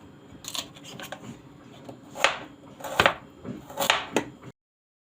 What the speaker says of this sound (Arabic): هقطع الكميه كلها بقى وارجع لكم تاني